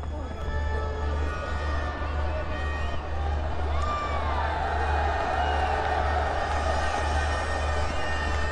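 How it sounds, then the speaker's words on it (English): A cricket crowd at a Kashmir Premier League 2021 match roars and cheers in a continuous, dense wash of noise, with a commentator talking over it. "you hear the crowd just roaring"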